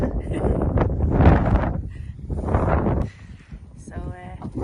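Gusty wind buffets a microphone outdoors in Orkney on a snowy spring day, with heavy low rumbling swells that rise and fall over several seconds while people talk.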